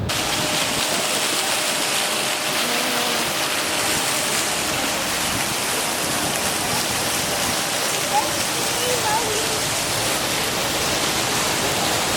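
Small streams and waterfalls running through a planted garden in Bangkok, a steady, broad rush of flowing water that holds evenly throughout, with no other sounds standing out.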